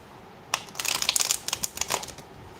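Tarot and oracle cards are shuffled by hand up close, a quiet two-second burst of quick papery riffles and crinkly clicks.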